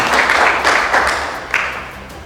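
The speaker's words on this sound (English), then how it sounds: "a big thank you and a big applause for all of that" An audience applauds at the book launch of Darpan, a steady wash of clapping that gradually fades over a couple of seconds, with no speech over it.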